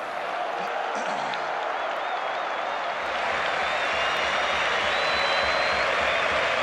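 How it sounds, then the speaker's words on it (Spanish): A large stadium crowd of San Lorenzo supporters applauds and cheers at a farewell celebration for players, a dense, steady roar of clapping that swells slightly and holds loud throughout. "ustedes están aplaudiendo mi trayectoria, mi recorrido"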